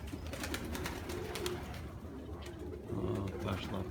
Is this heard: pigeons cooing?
yes